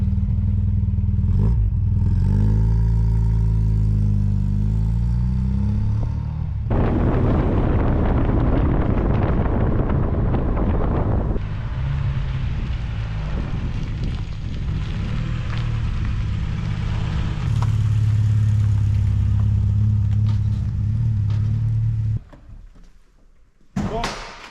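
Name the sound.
VW Golf 2 GTI 16S engine driving off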